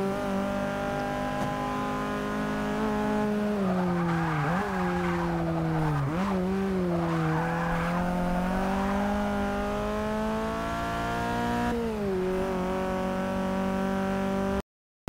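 Race cars in Forza Motorsport 6 roar through a lap with steady, loud engine drones that rise and fall through gear changes, punctuated by tire squeals and skids, with no talking.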